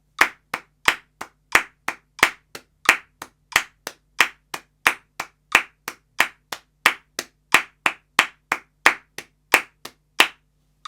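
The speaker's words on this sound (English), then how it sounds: "we're trying to clap 8 times" A single pair of hands claps in a steady, even rhythm, eight claps to each four-count beat, sharp and close, continuing alone with no talk for about eleven seconds.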